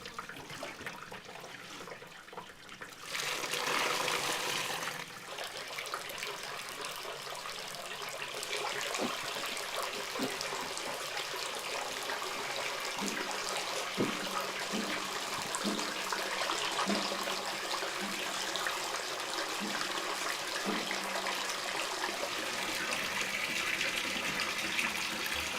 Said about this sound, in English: it's strained, all the liquid separated from the curd